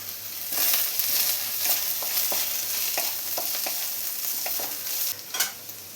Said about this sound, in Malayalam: ഈ സവാള നന്നായി തന്നെ ഒന്ന് വഴറ്റിയെടുക്കണം.